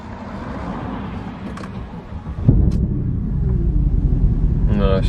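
A salvage Mercedes C63 engine runs with a misfire, a rough, uneven rumble that grows louder partway through, with a voice briefly present.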